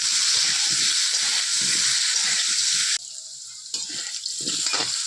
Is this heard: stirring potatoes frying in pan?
yes